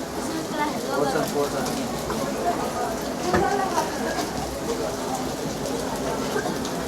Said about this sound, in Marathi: आणि बाहेर पाऊस चालू आहे